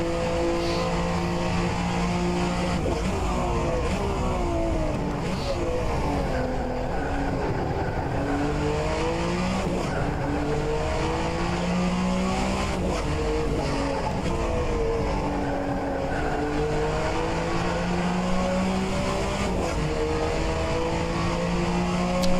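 A Group C sportscar races at Virginia International Raceway, its engine heard from on board as a loud, continuous roar whose pitch climbs and falls through repeated upshifts and downshifts, with no talk.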